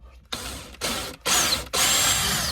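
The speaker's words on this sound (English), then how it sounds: "we're just going to drill an 8mm hole for the first one." A power drill whirs in three short bursts, then a longer run, grinding an 8mm hole through plasterboard up close.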